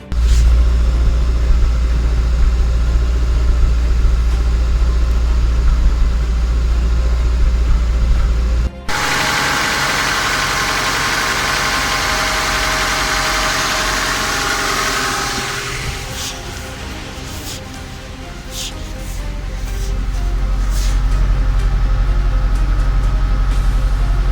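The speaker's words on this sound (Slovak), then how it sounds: "Motor držal otáčky. Bežal hladko." A car engine idles steadily after a valve clearance adjustment, a loud, smooth low rumble that continues throughout, with a brief drop in level partway through and some clicking near the end.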